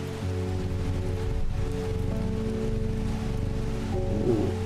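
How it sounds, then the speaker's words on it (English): Steady rain from the video game Strange Horticulture patters continuously under a low droning musical hum, even and unbroken throughout. "The rain is a bit loud compared to the purring"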